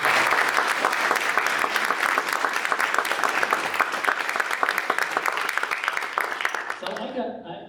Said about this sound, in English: if we could give Trav one more round of applause